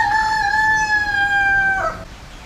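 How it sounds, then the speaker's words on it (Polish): Caged show roosters near Batu Caves temple in Kuala Lumpur, a single clear cock-a-doodle-doo crow held long and falling off at the end, close and loud over faint background. "tutaj koguty są trzymane w klatkach jako jakieś zwierzęta pokazowe"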